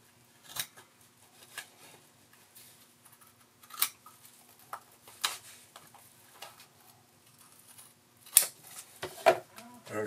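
Scissors cut apart a paper dress-form pattern under the bust, making a series of soft, irregular snips and paper rustles spread through a quiet room, with a few sharper clicks and faint talk.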